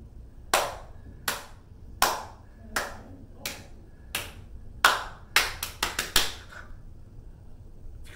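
Crisp hand claps in a clapping game come one at a time and evenly spaced at first, then quicken into a fast burst of claps before stopping, all close and distinct.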